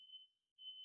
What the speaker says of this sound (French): c'est mon alarme incendie qui s'est mis en route